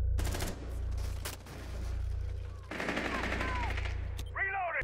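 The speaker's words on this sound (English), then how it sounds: "Ayozi, I was shooting. I was shooting, right?" Rapid automatic gunfire in Rainbow Six Siege, loud bursts over a constant low rumble, followed by scattered shots and chirping game effects.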